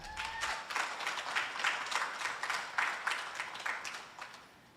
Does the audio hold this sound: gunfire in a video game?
no